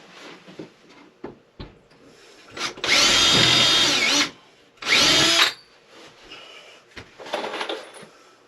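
A power drill whirs in two bursts, a longer one followed by a shorter one, with quiet handling noises and taps in between.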